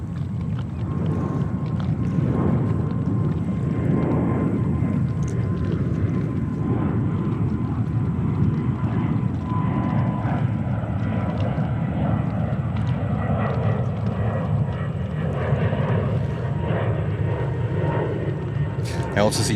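An airliner coming in to land at New York's JFK Airport, its engines a steady, broad roar that stays loud and close throughout, with a voice talking over it.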